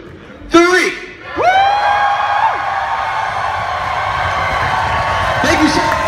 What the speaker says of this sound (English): on the count of three, I need you to cheer as loud as you possibly can